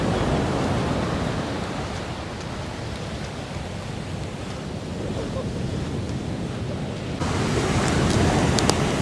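A rough sea churns during an approaching typhoon at Red Rocks Reserve in New Zealand, a constant loud roar of surf mixed with wind buffeting the microphone, swelling louder near the end.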